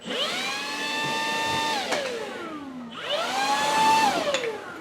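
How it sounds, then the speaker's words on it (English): Cordless 36-volt leaf blower blasting wood scraps out of a workshop, a loud whining motor that revs up twice in two long bursts with a brief drop between, close and alone with no talk. "Everybody knows about leaf blowers, right?"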